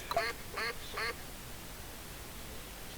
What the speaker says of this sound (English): I'll get the lone duck.